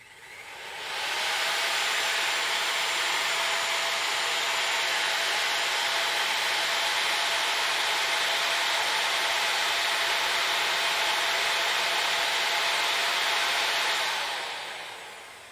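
A saw and a hair dryer run together on a DaranEner NEO2000 LiFePO4 portable power station, producing a loud, steady, hissing whir that starts after a second, holds constant for about thirteen seconds, then winds down.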